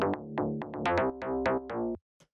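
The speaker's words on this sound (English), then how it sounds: "the next layer we've got here is this sort of plucky bass" Plucky synth bass built in Ableton Operator for a melodic bass house track: a run of about nine short, punchy notes in a bouncing rhythm, each decaying quickly, then a tiny faint blip after a pause.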